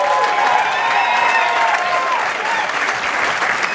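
An audience at a live folk concert in a club claps continuously and loudly for the performers, with a few scattered cheers mixed into the steady applause.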